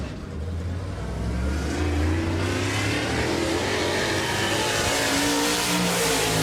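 The number 1 race car's engine revs and climbs as it rolls out onto the track, a loud, close, rising roar with shifting pitch and no voices.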